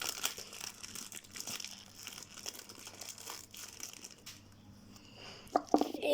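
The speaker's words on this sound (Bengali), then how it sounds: "প্যাকেট ছিঁড়ে ফেলছি" A plastic packet holding a fighter fish is torn open by hand, a close, loud crinkling and ripping that rises and falls over several seconds, ending in a few sharp rustles.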